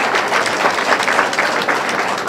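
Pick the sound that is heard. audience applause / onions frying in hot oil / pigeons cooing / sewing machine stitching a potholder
audience applause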